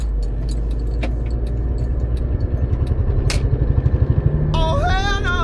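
A car with a failing Audi drive shaft center support bearing drones and rumbles, building into a rhythmic pulsing throb. A high whining tone rises at the end.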